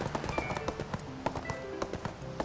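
Hooves of a horse mount in ArcheAge pound in a steady galloping rhythm of quick clip-clop beats, close and fairly loud, with no talk over them.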